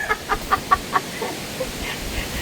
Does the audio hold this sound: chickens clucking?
yes